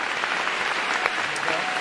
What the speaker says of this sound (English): Give a round of applause and let me welcome you to the stage.